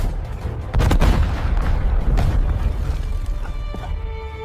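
Grenade explosion in a comedy action skit, a loud blast followed by rumbling debris and a fading ringing tail, with no talk over it.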